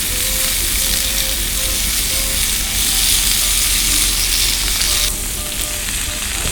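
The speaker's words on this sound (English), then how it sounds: "We got the bacon in there." Bacon sizzling and frying in a little oil in a pan, a loud, steady crackle that runs throughout with a slight drop in intensity near the end.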